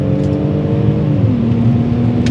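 A BMW E46 330i straight six pulls hard as the ZF automatic kicks down, a loud sustained engine drone with clear harmonic tones that shift pitch partway through as the gear changes.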